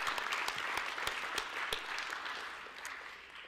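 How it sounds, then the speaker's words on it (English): A round of applause for the Pima women's soccer team at an athletic recognition reception, a burst of sustained clapping from a gathered audience that gradually thins toward the end. "So I'd like to give a round of applause for the Pima women's soccer team."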